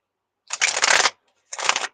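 Tarot cards are shuffled in two quick, close riffling bursts, the first longer than the second, with a short silence between and nothing else heard.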